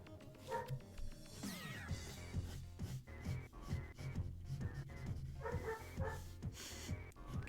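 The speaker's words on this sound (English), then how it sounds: "Can you guys hear my dog bitching?" A dog barks and whimpers repeatedly through a noisy indoor scene with music and other sounds, moderately loud under the mix.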